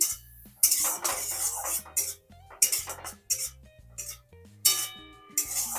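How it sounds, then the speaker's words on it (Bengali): A metal spoon clinks and scrapes against a pan while a vegetarian potato filling seasoned with salt and turmeric powder is stirred, in irregular close knocks and scrapes with no talk. "এবার আমি সমস্ত কিছু ভালো করে নাড়িয়ে নিচ্ছি"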